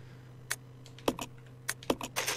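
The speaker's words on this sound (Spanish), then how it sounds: "Es una máquina de escribir" A typewriter is used to save in Resident Evil Zero: a few quiet, separate mechanical key clacks over a faint hum, ending in a brief rattling flourish.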